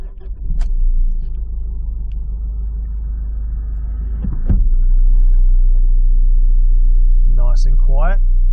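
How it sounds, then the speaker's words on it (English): A 2013 Mitsubishi Challenger turbo diesel engine starts with a brief crank and then settles into a low, even idle rumble heard from inside the cabin, with short bursts of speech and a few chime-like tones over it. "Let's hear that turbo diesel."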